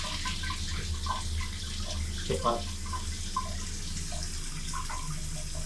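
Steady broadband rush of water from a shower fed by an Electrolux 15-liter storage water heater, continuous and fairly close, with a brief voice speaking over it midway.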